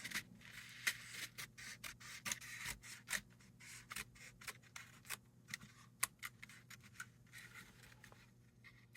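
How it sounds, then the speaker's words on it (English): Faint, close snips and scraping rustles come as scissors work through paper card, with rapid irregular cuts that slow to a few sparse clicks toward the end. "The scissors only want to go so far."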